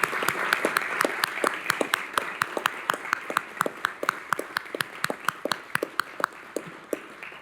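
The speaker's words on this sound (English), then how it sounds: "let's take a moment to recognize and give a round of applause" An audience at a city council meeting applauds the members of the Mayor's Youth Council, a steady round of clapping with distinct individual claps standing out, continuing evenly for several seconds.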